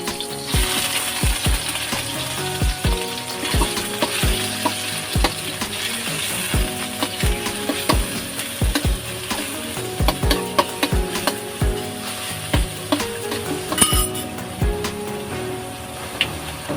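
Ground pork sizzles in a pan during stir-frying with bottle gourd and tomato, a steady frying hiss broken by repeated scraping and clattering of a spatula against the pan.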